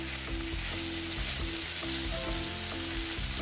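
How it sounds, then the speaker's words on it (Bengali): Chicken pieces for chilli chicken fry loudly in a pan while being stirred, a dense, continuous sizzle like heavy rain with a faint steady tone underneath. "চিকেনটা দিয়ে আমি কিছুক্ষণ নেড়ে চেড়ে"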